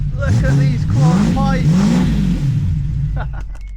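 Close by, a Jaguar E-Type Series 3 revs hard through a quad-pipe exhaust, two or three rising blips over a loud, constant low growl before it settles.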